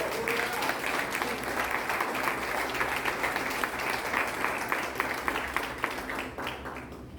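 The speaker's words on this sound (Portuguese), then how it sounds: "Você pode aplaudir o Senhor pela palavra dele?" A church congregation applauds during a Portuguese-language sermon, a dense, sustained wash of many hands clapping at steady loudness for several seconds before easing off slightly at the end.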